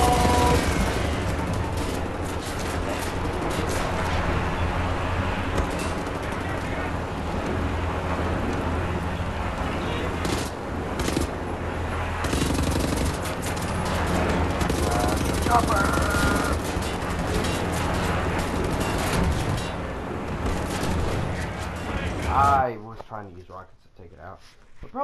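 Dual-wielded assault rifles firing in Wolfenstein The New Order, sustained automatic gunfire under heavy game noise with a voice talking over it throughout, ending abruptly near the close.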